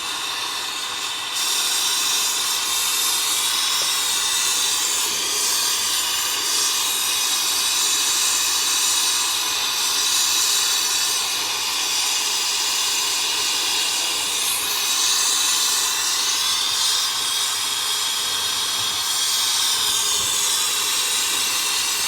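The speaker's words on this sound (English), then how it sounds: "I've got the flame directed at the ingot mold" A Smith Little Torch with a multi-jet nozzle roars steadily as its flame melts gold in a crucible, a loud, unbroken broadband hiss lasting throughout with no talk.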